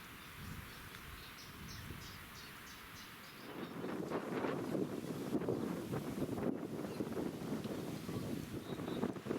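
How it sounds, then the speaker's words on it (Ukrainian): Wind gusts over a wild river at a fishing spot, a soft rushing blow that swells into steady rumbling buffeting against the microphone partway through. "Вітерець здійнявся, дує."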